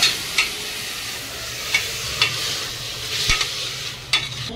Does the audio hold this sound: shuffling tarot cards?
no